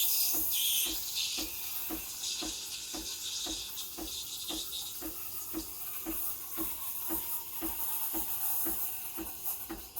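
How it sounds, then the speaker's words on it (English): Breville Barista Express BES870 espresso machine steam wand frothing cold milk in a jug, a steady close hiss with a rhythmic ticking, chirping pulse from air being drawn into the milk, continuous throughout. "That's the sound you want to be hearing. That means you're injecting air into the milk."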